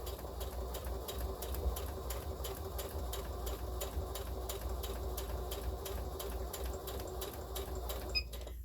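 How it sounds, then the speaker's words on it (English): A sewing machine stitches lining fabric for a child's tote bag, running in a steady, fast mechanical rhythm close by, then stopping abruptly at the end. "I'm sewing my lining fabric"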